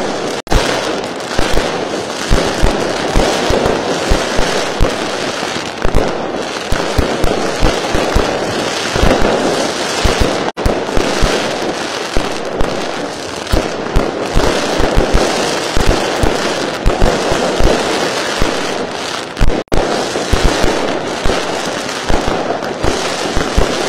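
New Year's Eve fireworks and firecrackers burst continuously, a dense loud barrage of overlapping pops and bangs that runs without pause throughout.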